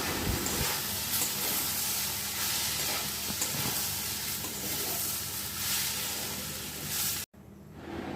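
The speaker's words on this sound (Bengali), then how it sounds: "তেলটা গরম হয়ে গেলে ফোড়ন দিয়ে দিলাম।" Whole spices tempered in hot white cooking oil in a wok, sizzling loudly and busily up close for several seconds before the sound cuts off abruptly near the end.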